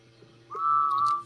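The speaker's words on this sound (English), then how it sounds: "I'm gonna tell him to blow the whistle." A steam engine whistle in the Roblox train game, a single steady tone that starts about halfway through and holds near and fairly loud until the end.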